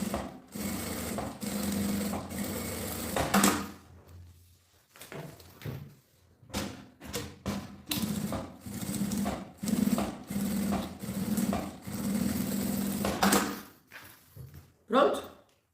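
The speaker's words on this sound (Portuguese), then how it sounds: "primeiro eu costuro esses dois viés" A sewing machine stitches bias binding onto a pouch in short bursts of rapid whirring separated by pauses, close and clear, with someone talking between the runs.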